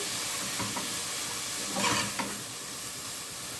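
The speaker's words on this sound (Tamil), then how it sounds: "நீங்கள் இந்த பச்சை மிளகாய் இஞ்சி பூண்டு இதெல்லாம் போட்டு வதக்கும் போது" Green chilli, ginger and garlic are sautéed in a pan for tomato pongal, giving a steady close frying hiss with a few soft stirring knocks in the middle; no voices.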